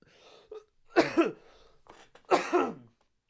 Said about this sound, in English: I can't clear my throat.